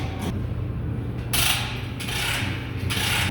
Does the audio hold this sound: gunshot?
no